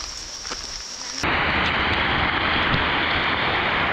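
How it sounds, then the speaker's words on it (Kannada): Heavy monsoon rain on the way to Dudhsagar Waterfall bursts in after about a second as a loud, dense, continuous roar that stays even to the end. "ಮಳೆ ಫುಲ್ಲು ಜೋರಾಗಿ ಬರ್ತಿದೆ"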